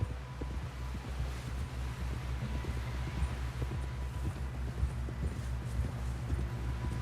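Horse hooves pound in a rapid, steady gallop in the video game Red Dead Redemption 2, beneath constant wind noise, with a low rumbling background throughout.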